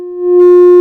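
A pure sine tone from a Moog Matriarch synthesizer, a single steady pitched note that swells in volume over the first fraction of a second, then holds loud and clean, alone.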